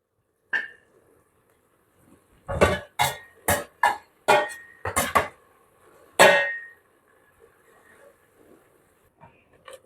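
Spoon scraping and clinking against a pot while peas are stirred, a burst of sharp knocks in quick succession, with isolated taps before and after and quiet gaps between.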